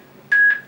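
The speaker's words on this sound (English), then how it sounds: "that beep beep no voice means it's a notification that volume is fully up" An Anker MP141 cube Bluetooth speaker gives two short, sharp beeps close up as its volume reaches maximum.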